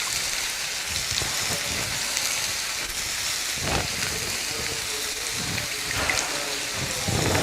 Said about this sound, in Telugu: ఇప్పుడు ముందుగా కట్ చేసి పెట్టుకున్న కూరగాయలను వేసుకుంటున్నాను